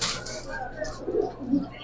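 Giribaz racing pigeons in a loft, soft low cooing close by under a voice, with a couple of throaty coos rising near the end.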